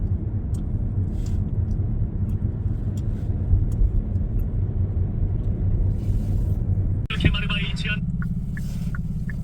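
Car engine and road rumble heard from inside a moving vehicle while driving to make a food delivery, a steady low drone with a brief clunk near the end.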